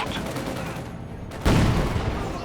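Gunfire rattles in a Company of Heroes 2 battle, a dense, continuous fusillade that swells into a louder blast partway through, heavy and close.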